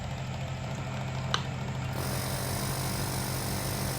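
A high-current refrigerator compressor switches on partway through: a faint background gives way to a steady, close, low electrical hum with a buzzing vibration, plus one brief click just before it starts.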